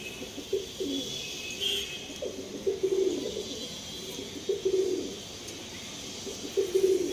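Arsad and Andhra pigeons coo inside a loft, several soft throaty rolling calls repeating at irregular intervals close by, with faint background noise and no clear speech.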